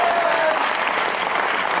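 An audience at a poetry mushaira at IIT BHU in Banaras claps: dense, loud applause from a large crowd, filling the whole short moment and holding steady.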